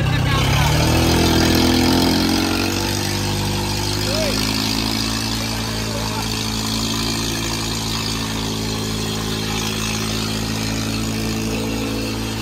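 A tractor engine runs in a steady, close, low rumble during a rural tractor tug-of-war between Sonalika 35, Mahindra and New Holland machines, idling evenly throughout, with voices audible around it.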